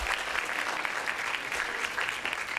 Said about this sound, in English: So round of applause for yourselves.